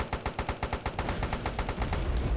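Rockets fire in rapid succession in the Airfix Dogfighter video game, a fast, even train of roughly fifteen sharp, loud pops that blurs into a continuous rumble toward the end.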